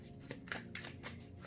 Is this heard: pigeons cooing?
no